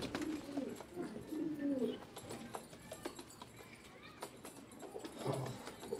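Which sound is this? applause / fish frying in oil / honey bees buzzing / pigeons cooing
pigeons cooing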